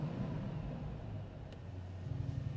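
A 843 HP GT V8 hybrid car starts up, heard from inside the cabin as a steady, heavy low rumble that holds through the whole stretch with a slight swell near the end.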